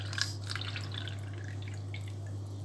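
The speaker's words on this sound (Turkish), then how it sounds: "yapacağım şey bir su dolduracağım ama çeşmeden dolduruyorum" Water fills from a tap in a quiet room, heard as faint trickling and dripping over a strong low electrical hum, soft and fairly steady throughout.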